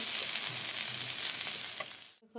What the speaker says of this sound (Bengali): করলাটাকে আমি এখন পুরো লাল করে ভেজে নেব